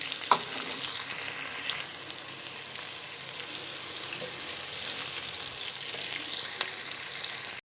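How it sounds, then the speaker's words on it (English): Onions for hotel-style biryani fry in a pan of hot oil, a continuous close sizzle with faint stirring clinks throughout, steady and moderately loud with no talking. "Now the onions are turning up into golden brown."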